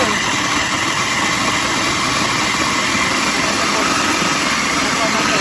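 A motorized grinder runs steadily, grinding fish meat for Thai fermented fish, a loud continuous mechanical whir with a constant hum throughout and no pauses.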